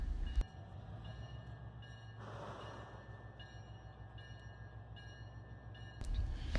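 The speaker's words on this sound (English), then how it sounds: "The train left for Conway early in the morning." A Conway Scenic Railroad train departs in a steady low rumble with a faint sustained tone, a soft swell in the middle and sharp knocks near the start and end.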